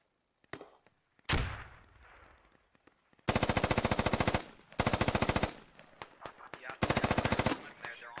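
In the video game Squad, 5.56 rifles lay down suppressive fire: a few single shots, then three loud, rapid automatic bursts of about a second each, close and sharp, with quieter distant fire between them.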